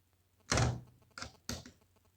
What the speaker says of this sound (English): Just move it anti-clockwise and you can see now the door is locked